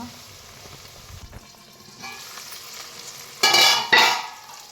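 Onions softening in a pan over a low flame for Telugu-style fish curry (chepala pulusu), with a soft steady sizzle and two louder bursts of stirring or scraping near the end.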